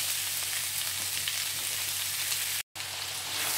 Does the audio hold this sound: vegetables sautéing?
yes